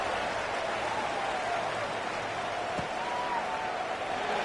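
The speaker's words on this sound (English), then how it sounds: "this crowd is buzzing after that last score" A college football stadium crowd buzzes after a touchdown, a steady loud roar of many voices with a faint whistle-like tone running through it.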